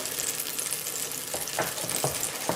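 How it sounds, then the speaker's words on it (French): Butter melting and frying in a pan for a cabbage, white wine, onion, sausage and garlic stew, giving a steady close sizzle with a few soft utensil knocks and scrapes near the end. "On fait fondre le beurre et on va venir faire revenir tout ça"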